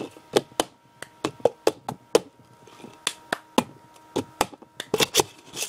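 Cup song rhythm played by hand, crisp claps and knocks of a cup on a hard surface in a quick syncopated pattern, close and clear with brief pauses between phrases.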